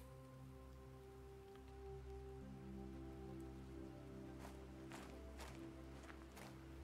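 Steady rain falls in the Planet Crafter game, a faint, even patter over a low droning ambient hum, with a few louder splashy ticks near the end.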